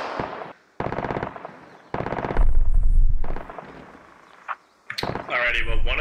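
Video game gunfire during a one-life squad operation: several bursts of automatic fire with short gaps, one passage of heavy low rumbling, loud and close.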